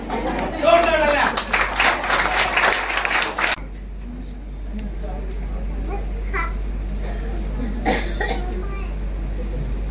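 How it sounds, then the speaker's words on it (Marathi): An audience at a celebration event breaks into loud, dense applause for a few seconds, which stops abruptly and gives way to a quieter room with scattered voices and coughs. "जोरदार टाळ्या."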